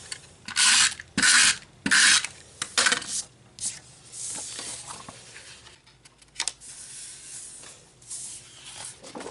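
Paper is trimmed for a wave-themed scrapbook layout. Several loud rasping strokes come in quick succession up close, followed by quieter, softer scraping and a few small taps, with no talk.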